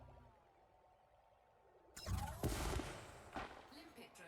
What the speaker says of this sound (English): if you use multiple abrasion blasters, you can get 2 chunks with 1 shot from 1 deposit